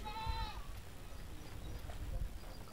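A goat on a hilltop near a shrine at Mumbra, India, lets out one short wavering bleat at the very start. The call is faint and brief, then steady outdoor wind and distant noise fill the rest.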